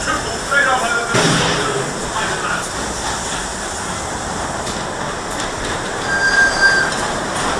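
A Wallace & Gromit Thrill-O-Matic dark ride car at Blackpool Pleasure Beach rumbles along its track with wheel squeals and clatter, continuous and fairly loud.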